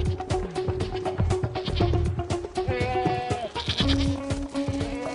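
A herd of goats bleating as they are brought in, with many overlapping calls close by, some long and wavering, some short, continuing without pause.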